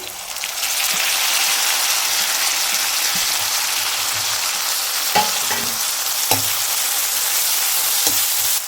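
Steady, bright sizzling of chopped tomato dropped into capsicum frying in a pan for poha, a continuous hiss with a few stirring clinks and scrapes near the end.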